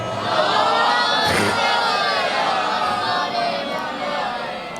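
A large crowd of Shia mourners at an imambargah majlis recites durood aloud in unison, a sustained roar of many voices reciting together, filling the space without pause.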